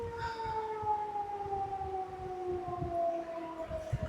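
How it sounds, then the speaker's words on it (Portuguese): A civil defense siren sounds its scheduled 17:00 signal, a steady wailing tone that slowly sags in pitch and holds loud and continuous from start to finish, with no voices over it. "Eu esqueci do horário da sirene."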